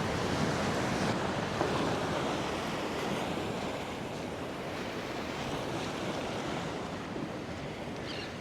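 Ocean surf breaking against shoreline rocks at Singer Island, a continuous broad roaring wash with gusty wind buffeting the microphone, loud and close throughout with no speech.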